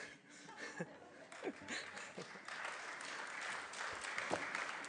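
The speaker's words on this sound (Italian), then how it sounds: "Va bene un applauso invece della risposta?" Faint audience applause mixed with scattered chuckles and laughter at a conference, building gradually into a fuller clapping wash toward the end.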